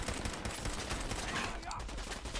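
Rapid gunfire from the Fallout 4 video game cracks out in a dense, loud burst of overlapping shots, with a voice faintly mixed under the barrage.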